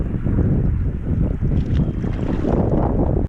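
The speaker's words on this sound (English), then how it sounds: "the wind's pounding in on the shoreline" Strong wind pounding in on a lake shoreline during a Wisconsin spring bass outing, heard as a loud, continuous buffeting rumble of gusts battering the microphone, with no speech.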